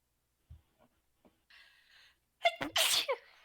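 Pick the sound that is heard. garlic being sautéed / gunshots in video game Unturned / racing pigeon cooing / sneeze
sneeze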